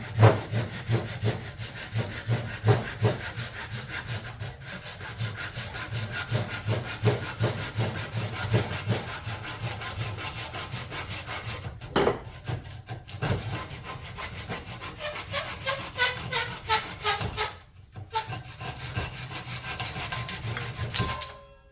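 Hand saw cutting the excess wood off a freshly glued axe handle, steady rhythmic back-and-forth rasping strokes close up for about twenty seconds, with brief pauses near the end.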